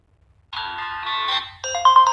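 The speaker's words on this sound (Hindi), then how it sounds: "देखते हैं कितनी सारी रिंगटोन है अभी हमारी" A ringtone plays from an Infinix Zero 5G smartphone: a bright electronic melody in two phrases, the second louder and more chiming after a brief pause, close and alone with no talk.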